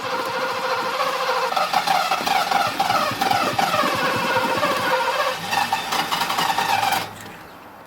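A Mercedes-Benz W126 380SE with a fuel-starved engine rumbles roughly for several seconds, then abruptly cuts out and dies, leaving a quiet tail.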